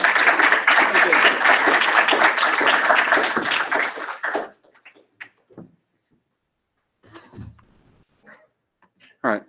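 Audience applause after a lightning talk at a tech conference session, a loud, dense burst of clapping for about four seconds that stops abruptly, followed by sparse faint sounds and brief voices.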